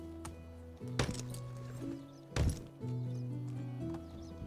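Horses in the medieval village game Medieval Dynasty, parked by a church: sharp hoof clip-clops and a couple of snorting, neighing bursts over a steady ambient hum, fairly close and moderately loud.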